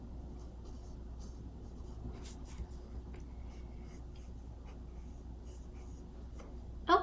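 A pencil drawing and shading on paper scratches and rubs in short, close strokes, quiet and irregular, with a slightly louder scrape right at the end and no talk.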